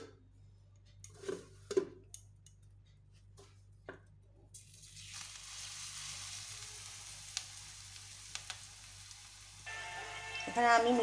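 Semolina-coated stuffed Bombay chilli chops frying in hot oil in a kadai over medium heat: a few soft clicks and taps first, then a steady, gently crackling sizzle that builds and holds to the end.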